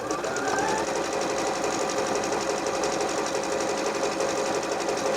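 A Bernette b38 sewing machine stitches cotton denim in a steady, continuous whirr, close and even in pace throughout with no pauses.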